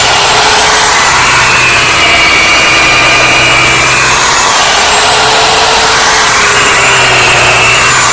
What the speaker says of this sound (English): Just drilling the holes.